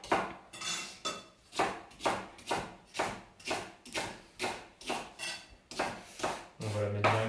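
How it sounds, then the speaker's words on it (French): Knife roughly chopping rhubarb on a board for a meringue tart, a dozen steady rhythmic thuds of the blade in quick succession, close and clear, with a voice starting at the very end. "je vais juste... tailler grossièrement la rhubarbe"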